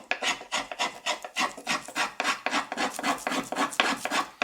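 Hand carving a wooden guitar top soundboard with a gouge or rasp, producing a steady series of close, rhythmic scraping strokes about every quarter second, each a bright rasping burst, with no talking.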